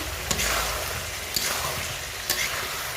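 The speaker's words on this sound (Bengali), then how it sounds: "আলু দিয়ে আরও কিছুক্ষণ কষিয়ে নেব" Chicken pieces and fried potatoes sizzling in oil in a pan for a curry, a continuous close hiss with three distinct scraping stir strokes at regular intervals, no voices.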